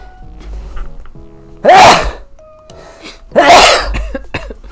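A person sneezes twice in a quiet room, two sharp loud bursts a couple of seconds apart, with faint game music in the background.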